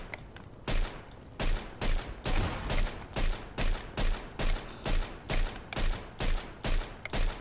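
Gunfire in the video game Mafia 2: a long run of about fifteen evenly spaced, loud, sharp gunshots, steady rhythmic bursts with no voices over them.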